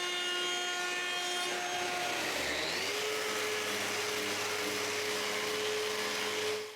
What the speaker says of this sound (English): Then I route a round over on all the edges.